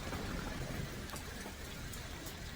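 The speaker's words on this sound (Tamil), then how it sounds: "பயங்கர மழை பெஞ்சிட்ருக்கு" Heavy rain pours outside a hotel in Japan, a dense, steady hiss of water with scattered drop impacts and no voices.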